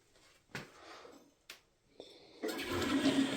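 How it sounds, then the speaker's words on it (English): A household toilet being flushed during a plumbing service call: a few sharp handle clunks and knocks, then a loud rushing gush of water that continues to the end, close by and without talk. "Give it a flush."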